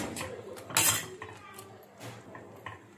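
A spoon stirs cardamom powder into makhana kheer in a metal pot, giving a few close clinks and scrapes against the pot wall, with one louder knock near the start.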